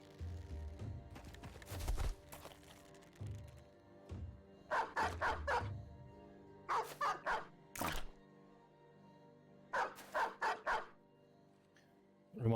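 War dogs bark in the medieval mercenary game Battle Brothers, during a fight against a peasant mob. The dogs let out several quick, loud clusters of barks separated by pauses, with some thumps and a whimper in between.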